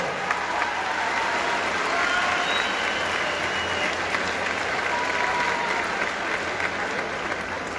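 Steady, sustained applause from a large crowd at the opening of the Huamantla fair, greeting the newly crowned Dalia queen, with dense even clapping continuing throughout.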